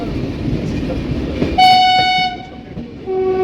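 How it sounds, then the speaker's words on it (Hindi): A train departing Bhopal Junction station sounds a long, loud tonal horn blast partway through, with a brief dip and a second blast near the end, over a steady rumble of station and rail noise. "कोई तो ट्रेन है जो डिपोर्ट हो रही है यहाँ से"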